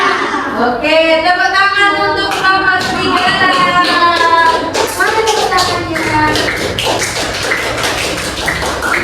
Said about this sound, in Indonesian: Oke, tepuk tangan untuk kelompok serigala. Mana tepuk tangannya?